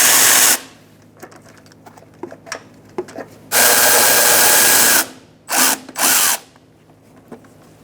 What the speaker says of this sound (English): using a 10 millimeter, we're going to loosen up these bolts.